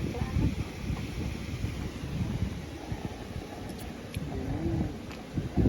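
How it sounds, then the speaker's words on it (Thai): Strong wind blows steadily across a riverside campsite at dusk, a broad rushing roar buffeting the microphone with gusts that rise and fall throughout. "ที่นี่ลมค่อนข้างแรง"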